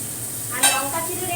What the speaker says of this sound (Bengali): অল্প একটু তেল দিয়েছি এই দেখো, আর এখানে জিরে তেজপাতা আর পেঁয়াজ ফোড়ন দিয়েছি।